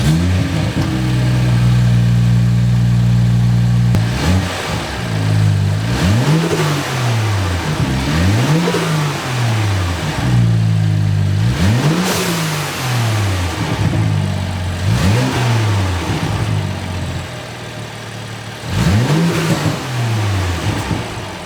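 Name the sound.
BMW F87 M2 stock intake engine revving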